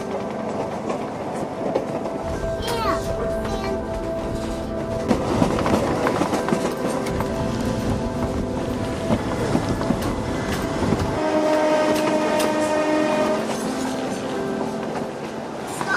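Train noise heard from inside a rocking caboose on a moving freight train: steady rumble and rail clatter throughout, with squeals and metallic tones rising and falling, near and loud, no talking.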